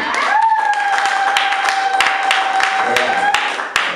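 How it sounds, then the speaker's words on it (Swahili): Audience at a theology graduation ceremony clapping for the graduates, a steady patter of many hands with a few sharper claps, under a sustained tonal hum. "Wapigieni makofi wahitimu wetu jamani."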